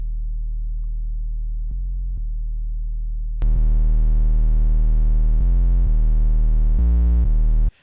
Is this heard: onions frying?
no